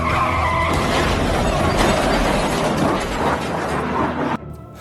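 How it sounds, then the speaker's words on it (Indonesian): A car in a film skids and overturns, with a long, loud grinding screech and scraping rumble that cuts off abruptly near the end, leaving quieter debris noise. "Saat polisi lengah, Lee kemudian menyerang mereka, menyebabkan mobilnya terbalik"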